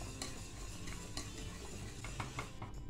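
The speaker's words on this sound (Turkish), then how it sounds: "Hiç bırakmadan karıştıra muhallebimizi pişiriyoruz." A spoon scrapes steadily around a pot of Turkish milk pudding as it cooks on the stove, with a soft bubbling hiss beneath the close, continuous stirring and no voices.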